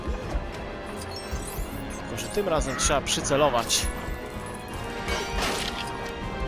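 A balloon holding an anvil smashed in LEGO DC Super Villains, a loud crash with clinking debris, under excited talk.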